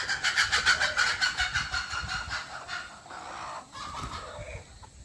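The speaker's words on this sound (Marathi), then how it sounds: "पूर्ण कोंबडी प्युअर गावठी कोंबडी आहेत" Free-range native village chickens on a poultry farm give rapid, rhythmic clucks close by, loudest at first and then fading into quieter, looser calls, heard alone without talking.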